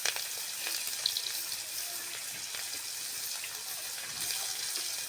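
Chopped onion fries in hot oil with bay leaves and garam masala, giving a steady close sizzling hiss with faint crackles throughout.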